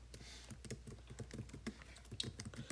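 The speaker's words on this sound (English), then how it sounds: "Let's type it like this." Quiet, fast typing on a computer keyboard: a dense patter of light key clicks running steadily for a few seconds, close and soft, with no talking.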